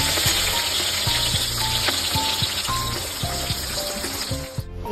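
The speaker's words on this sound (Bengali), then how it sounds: "এই আলু ভাজা ছেড়ে দিলাম" Potato pieces frying in hot oil, a steady dense sizzle with scattered clinks of a utensil against the pan, close and continuous before stopping abruptly near the end.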